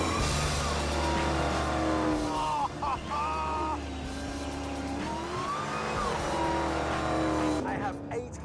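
A supercharged Dodge Challenger Demon of 840 horsepower, with a huge supercharger under its hood scoop, revs and whines through rising and falling engine pitches, loud and close, with voices talking over it and engine noise shifting toward the end.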